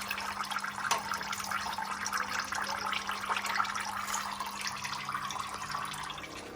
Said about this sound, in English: you basically use that banjo fitting to get the draining started